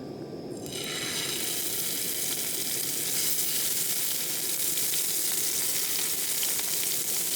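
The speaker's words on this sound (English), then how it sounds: "We're going to fry up a bit of wood pigeon, a bit of rabbit, a little bit of herbage." Wood pigeon and rabbit fry in a pan with a loud, continuous sizzle that starts abruptly and holds steady and close throughout, with no voices.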